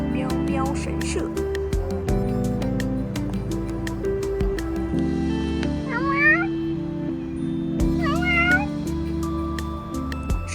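Stray cats at a cat shrine sanctuary in a Kunming art park, giving a few distinct rising meows, most clearly in the second half, over a steady background of voices and ambient sound.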